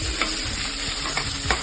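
Onions sizzle steadily in a hot oiled pan with green chilies for an aloo paratha filling, a close, even frying hiss with a few light stirring scrapes.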